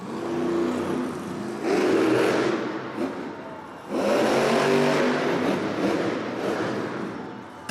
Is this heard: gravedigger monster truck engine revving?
yes